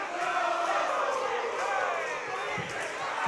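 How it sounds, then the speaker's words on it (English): A boxing arena crowd at a Kieran Molloy versus Fernando Mosquera fight in Leisureland, Galway, sings in the sixth round, a steady roar of massed voices with a commentator talking over it. "The crowd breaking the song once again here in the sixth round in Leisureland."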